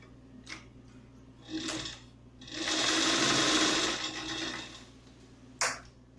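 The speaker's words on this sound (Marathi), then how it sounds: "आता आपण कटोरीचे हे टक्स आहेत ते शिवून घेऊया।" A sewing machine runs a short steady burst while stitching the tucks of a lined katori blouse, with brief clicks and handling noises before and after.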